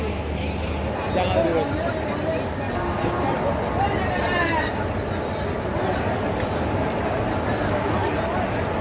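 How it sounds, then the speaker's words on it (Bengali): A crowd of passengers on a railway station platform at Radhikapur in India makes a dense, steady babble of overlapping voices and chatter with a low background rumble throughout. "আজকে প্রচুর ভিড় তো"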